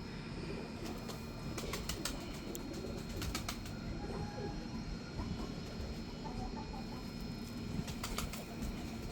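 Pigeons, double-crested show birds from a main breeder's loft, coo softly under steady background noise, with occasional sharp ticking sounds over a few seconds.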